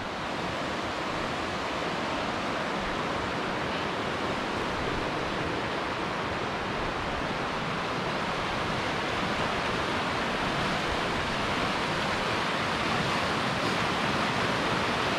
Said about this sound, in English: Coming up on Huskey Branch Falls.